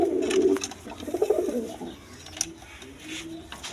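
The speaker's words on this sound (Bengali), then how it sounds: "দেখেন মাদি ডাকতেছে" A female pigeon coos in low, throaty bursts close by, a pair of soft rolling calls followed by quieter murmurs, with faint background noise and no talking.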